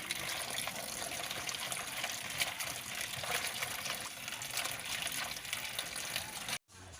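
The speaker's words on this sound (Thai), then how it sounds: "ล้างผ่านน้ำไปหลายน้ำ" Running water rinses Chinese kale in a kitchen, a steady close splashing gush that continues unbroken before cutting off abruptly near the end and then resuming briefly.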